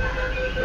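A Kolkata metro train stands at a station as its doors close, heard as a steady low rumble with a sustained high electrical tone, close and continuous.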